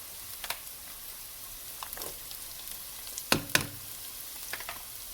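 Garlic tossed into a pan of browning collard greens hisses with a few sharp sizzling bursts, loudest in a brief flare near the middle, over a faint steady frying background with no talk.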